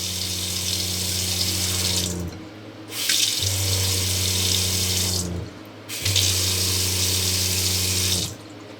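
An RV sink faucet runs hot water in three loud bursts of a few seconds each, steady gushing water separated by brief gaps, with a low pipe hum.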